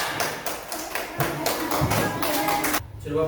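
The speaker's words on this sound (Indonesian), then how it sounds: "Oke, boleh kasih tepuk tangan." Scattered clapping from students in a classroom, a handful of uneven hand claps and thuds at close range, tapering off as a voice begins near the end.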